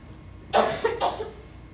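Two or three harsh coughs in quick succession, fairly close, with quiet room tone before and after.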